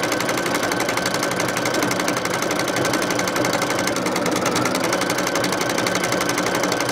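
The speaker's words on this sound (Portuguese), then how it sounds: "Eu vou deixar a máquina bordando um pouco do crivo." An embroidery machine stitches a crivo openwork pattern directly onto terry cloth, a loud, rapid and steady mechanical chatter that runs unbroken from start to finish with no voices.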